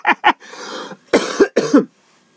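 A man coughs loudly and close by, with two quick hacks, then a longer rasping cough and a further pair of harsh bursts, followed by silence.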